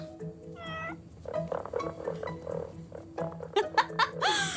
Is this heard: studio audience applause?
no